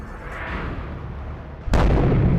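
Indian army artillery fires shells at a Pakistani army post on the border. A low rumbling lead-in breaks into one sudden, loud blast that rolls on as a heavy roar.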